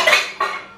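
Metallic clinks of an imitation silver spoon tapping against a small bowl, two bright strikes close to the mic, with ringing decay between them.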